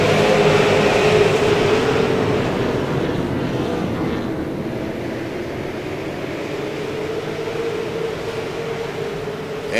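Race cars roar together at the green-flag start of the SARA Throwback 200 at South Boston Speedway, a loud, dense, sustained engine rumble that surges early and stays heavy for the whole stretch with no voices.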